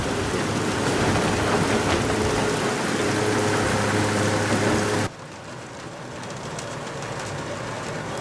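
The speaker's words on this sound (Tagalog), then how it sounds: "Ang lakas naman ng ulan." Heavy rain in an animated cartoon roars steadily with a low rumble underneath, then cuts abruptly to a quieter, thinner downpour partway through.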